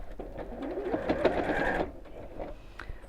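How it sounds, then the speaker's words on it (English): A sewing machine stitching across several layers of fabric on a child's backpack, a steady close whirring run of about a second and a half that then stops, with faint handling noise after. "And then we'll sew straight across there, again within the seam allowance, so quite close to the edge."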